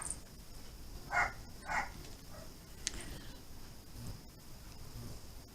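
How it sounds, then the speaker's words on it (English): A dog named Annie barks twice in quick succession, the short, faint yips sounding fairly distant over a quiet indoor background, followed by a few softer, fainter noises. "now I hear Annie barking away"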